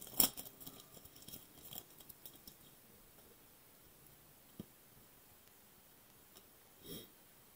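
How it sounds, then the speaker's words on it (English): Scissors cut open tough soccer trading card packs with a few faint, sharp snips and light rustling, spaced irregularly over a quiet background with no voices. "so we'll get scissors if need be"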